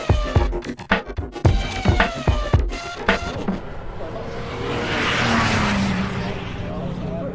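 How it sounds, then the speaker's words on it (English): Race cars roll through the Porsche curves as they line up on the grid before a big race start, a series of close, sharp passes and engine bursts at first, then a steadier, fading roar of engines further off. "You're listening to the sound of the cars going through the Porsche curves as they line up for the grid for the start of the race"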